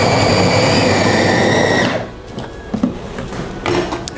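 Siomay dough with grated garlic, sesame oil and fried-shallot oil being mixed, a loud steady motorised whir for about two seconds that stops, then fainter scraping and stirring knocks.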